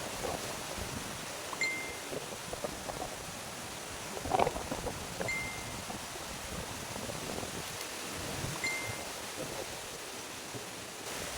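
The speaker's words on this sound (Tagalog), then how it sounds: "Sobrang lakas ng hangin mga kasinag" Strong wind buffets the microphone in a constant roaring rush, with gusty swells and faint thin whistles, and no talking.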